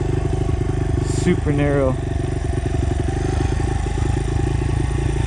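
A Honda XR motorcycle creeps down a steep, narrow hill trail in first gear, its engine a loud, steady low putter close by. A rider speaks over it briefly.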